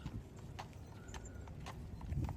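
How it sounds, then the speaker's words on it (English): Horse hooves clip-clopping on pavement as a horse pulls a carriage through Central Park in New York City, a steady rhythmic series of sharp knocks at moderate distance. "He explained to us why it's not cruel to use horses to pull people."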